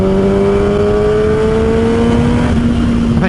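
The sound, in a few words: Kawasaki ZX6R motorcycle engine revving and exhaust cracks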